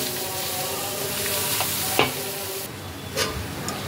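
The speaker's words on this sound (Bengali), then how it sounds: "এবার সব কিছু দিয়ে একসাথে ভালো করে মিশিয়ে নিতে হবে।" Fish chop filling being stirred and mixed with fried spices in a pan, a steady soft sizzle under occasional scraping strokes of a spoon against the cookware, close and moderately quiet.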